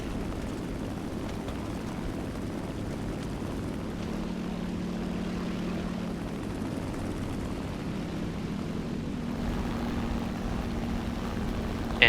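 A Focke-Wulf FW 190 A-4 propeller fighter flies in War Thunder, its engine a steady low droning hum that holds level throughout, with a slight pitch change midway and no talk.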